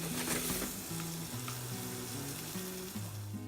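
Broccoli sweating in a frying pan with salt and pepper, giving a steady close sizzle with occasional stirring scrapes, alone with no talk.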